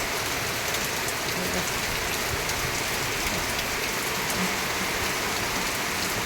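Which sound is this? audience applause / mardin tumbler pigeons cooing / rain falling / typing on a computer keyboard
rain falling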